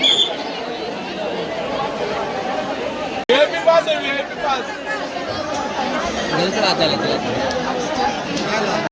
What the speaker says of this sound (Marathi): बाकी गर्दी बघा इथे